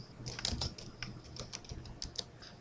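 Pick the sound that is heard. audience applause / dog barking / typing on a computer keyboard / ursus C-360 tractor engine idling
typing on a computer keyboard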